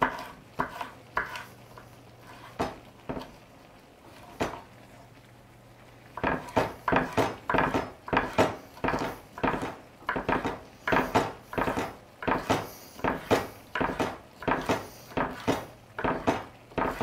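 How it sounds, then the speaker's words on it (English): A knife slices a red pepper lengthways on a cutting board. A few sparse taps come first, then quick, regular chopping knocks follow one after another, close up. "I'm just going to slice that long ways."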